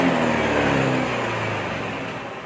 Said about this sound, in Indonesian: Nah ini kita tarik gas pelan dulu ya.